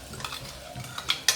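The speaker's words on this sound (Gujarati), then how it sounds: "તો હવે આપણે આ જે પેસ્ટ બનાવીને રાખી છે તે આપણે કુકરમાં એડ કરી દઈશું" Chili garlic paste being stirred into onions and capsicum frying in a pressure cooker for pav bhaji, with soft scraping, gentle sizzle and a few sharp utensil clinks against the pot.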